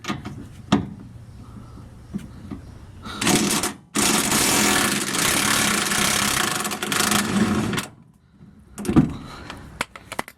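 An impact wrench removes front bumper bolts on a Plymouth Duster, with a short burst followed by a long, loud, sustained buzzing run of about four seconds, then a brief final rattle, set among softer clunks in a garage.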